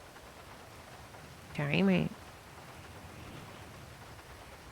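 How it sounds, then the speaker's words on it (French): Steady rain hisses softly throughout a GTA video game scene, broken briefly by one short spoken word. "il pleut, hein. C'est chiant la pluie."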